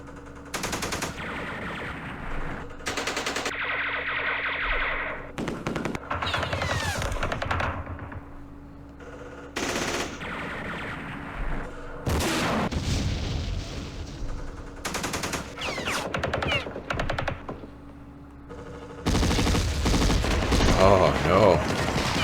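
Gunfire from units in a Vietnam War strategy game, loud bursts of machine-gun and rifle fire in repeated volleys with thuds between, continuing throughout.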